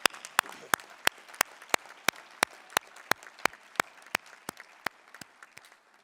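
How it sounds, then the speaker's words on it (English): Audience at a University of Michigan-Flint commencement ceremony applauding, with loud, evenly spaced single claps that sound like a few nearby hands rather than a full crowd. "please join me in giving them a round of applause"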